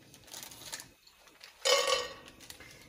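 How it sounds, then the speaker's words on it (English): Peanuts tumble into a pan with a short burst of rattling clatter, followed by a few faint clinks of cookware, close and otherwise quiet. "I'm gonna add peanuts with the 2 teaspoons of sugar."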